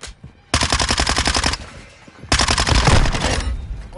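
Call of Duty gunfire rattles out in two loud sustained automatic bursts with a short gap between them, close and harsh, with no voices.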